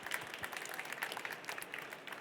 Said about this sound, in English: Definitely deserved some applause